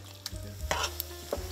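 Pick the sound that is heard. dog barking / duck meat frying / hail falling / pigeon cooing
duck meat frying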